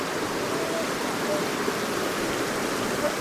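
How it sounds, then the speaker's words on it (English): Creek water flowing steadily in the Upper South Fork Skokomish area, running a little high, a close, constant broadband rush with no breaks. "Made it to this creek."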